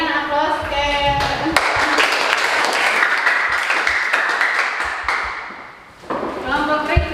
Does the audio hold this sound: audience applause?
yes